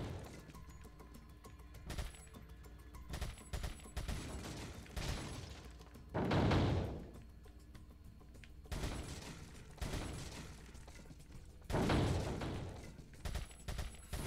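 Gunshots ring out at shooting targets in the video game Resident Evil 4. They come as a steady series of sharp bursts, some followed by longer booming tails, over a constant low game background with no talking.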